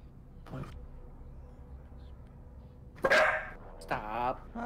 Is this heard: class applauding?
no